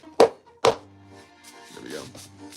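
Two quick, loud thumps as cardboard is banged down to make it stay, followed by a softer rustle, with someone speaking nearby.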